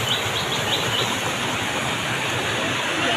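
Strong rushing water at a natural bathing spring, a dense unbroken roar filling the air at close range, with faint bird chirps briefly rising above it near the start.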